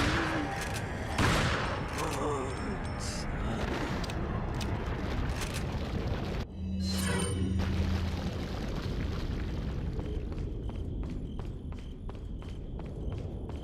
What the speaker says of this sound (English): I should probably shotgun them